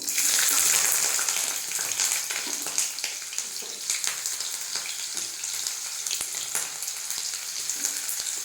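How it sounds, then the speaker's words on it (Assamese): Onions frying in hot oil in a kadai for a local chicken curry, a loud steady sizzle with close crackles and spattering pops running throughout, no talking. "এতিয়া তাত তেল গৰম কৰি পিঁয়াজখিনি ভাজি ল'ম।"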